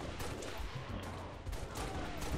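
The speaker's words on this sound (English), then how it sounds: "Oh, I just shot our Marine." Rapid gunfire from weapons in the Halo Reach campaign, a dense continuous burst of shots with no pauses, fairly close and loud throughout.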